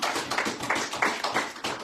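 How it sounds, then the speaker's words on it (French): A church congregation applauding together, dense steady clapping in uneven surges, close and fairly loud with no talk. "Nous applaudissons la parole de Dieu"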